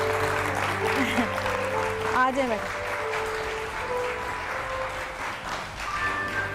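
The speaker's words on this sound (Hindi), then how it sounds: "बहुत सारी तालियां जी" A studio audience claps at a TV show taping, steady applause running under a woman's speech and a brief sung or tonal voice, fairly loud and close.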